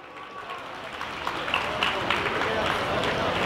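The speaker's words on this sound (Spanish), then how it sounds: "Fuerte el aplauso, por favor." Applause from a festival crowd for a rondalla performance rises gradually, a dense, moderately loud patter of clapping filling the space with a few scattered louder claps.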